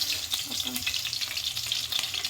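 Green chillies frying in hot oil in a home kitchen pan while making gobi, a loud close continuous sizzle and crackle with light stirring underneath.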